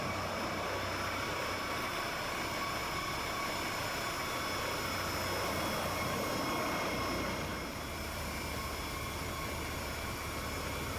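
Simulated VSL 902X-NTR twin-engine helicopter in X-Plane 12, a steady, faint turbine whine and drone with a constant high tone, unbroken throughout and easing slightly near the end, with no talking.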